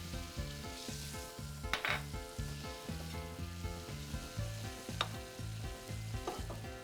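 Ground pork seasoned with white pepper sizzles and fries steadily in a pan on the stove, with a continuous crackle, a regular pulsing rhythm and a few sharper pops, heard close up with no talking.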